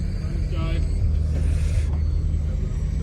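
V8 Thunder Saloon racing cars roar around Donington Park in a low, steady engine drone, with a brief higher whine passing partway through.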